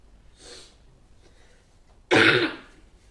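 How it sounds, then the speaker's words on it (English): Single person coughing: a faint throat-clearing sound early on, then one loud, harsh cough close by, in an otherwise quiet room. "Sorry I've coughed my guts up."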